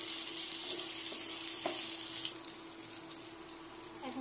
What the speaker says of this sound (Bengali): গাজরটা দিয়ে হালকা একটু ভেজে নেব